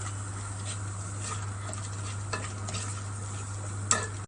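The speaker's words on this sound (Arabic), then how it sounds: "بعد ما هنشوح البصله شويه هننزل عليها بالبسله، وهنشوحها برده شويه." Onion and frozen peas sautéing in a pan at home: a steady soft sizzle with light scraping stirs and occasional clicks of a utensil against the pan, fairly quiet and with no talking.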